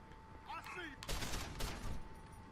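Pistol gunfire in the video game Deus Ex: Human Revolution, a few sharp close shots cracking in quick succession, with a voice briefly audible just before them.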